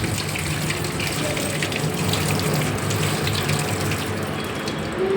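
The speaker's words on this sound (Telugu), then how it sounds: "కాకరకాయలను కడగాలి." Bitter gourds are washed under a running tap, with a steady close gush of water splashing into a sink throughout.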